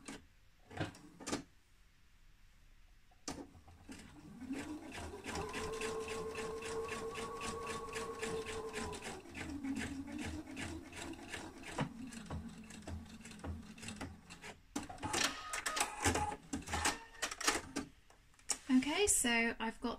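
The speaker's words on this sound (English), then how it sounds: "So I've got the pocket all stitched down and ready to go for the next stage." A sewing machine stitches down a shirt pocket on a Kalle shirt, running steadily for several seconds with fast rhythmic needle clatter, stopping and restarting, surrounded by handling clicks and fabric rustle.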